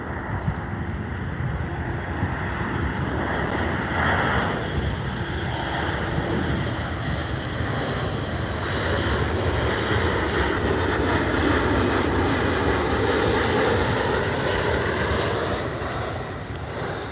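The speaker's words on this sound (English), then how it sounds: "Looks like another Air Canada Boeing 737 MAX 8." Air Canada Boeing 737 MAX 8 airliner at YVR airport, a loud continuous jet engine roar sustained throughout, with a steady broadband rumble and slight swelling toward the end.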